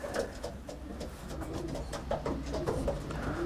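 Homing pigeons cooing in a loft, repeated soft throaty coos overlapping at close range with steady low background noise.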